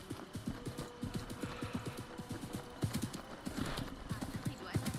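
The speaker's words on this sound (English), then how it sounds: "the horse speeds up on a certain distance from the city" Rhythmic clip-clop of horse hooves at a steady galloping pace, fairly close, with a faint background hum and no talking, from the video game Assassin's Creed Mirage.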